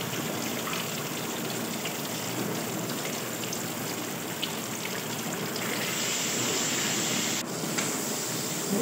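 Tomatoes, ginger, salt, turmeric, chili and cumin powder fry in hot oil, a dense, even sizzle and crackle that holds steady throughout at moderate volume.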